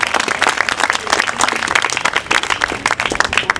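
At a graduation ceremony, a crowd claps loudly and unevenly, sharp individual claps standing out within a close, lively burst of applause that carries on throughout.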